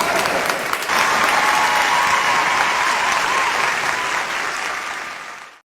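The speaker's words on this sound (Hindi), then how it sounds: "ताली बजाइए" An audience at a mushaira, an Urdu poetry gathering, breaks into loud sustained clapping right after a ghazal ends, holding steady before tapering off at the close.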